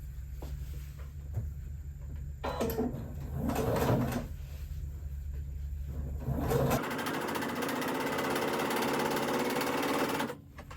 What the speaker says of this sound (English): I'm just going to sew right along this folded edge